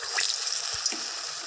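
Dahi bara batter frying in hot oil for a Cuttack-style dish, a steady broadband sizzle with a few soft pops and light clinks, close and moderately loud, no talk.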